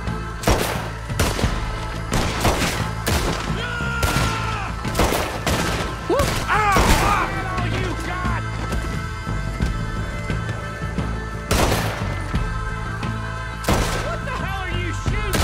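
Heavy gunfire in Red Dead Redemption 2, a sustained fusillade of loud, close shots fired in rapid, irregular bursts for the whole stretch, several echoing booms among them, with a little talk underneath.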